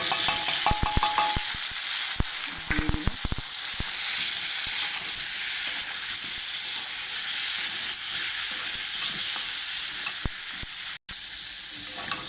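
Fish curry masala with potato, raw banana, tomato, turmeric, salt, ginger paste and red chilli powder stir-fried in a pan, a loud steady sizzle and hiss with a few sharp spoon clinks early on, no speech.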